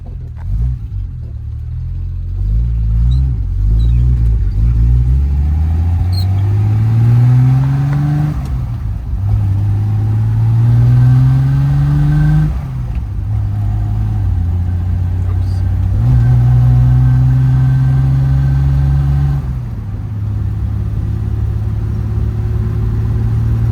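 A car with an overdrive problem hums along during a test drive, its engine rising in pitch through several gear shifts with a steady loud drone of road noise inside the cabin.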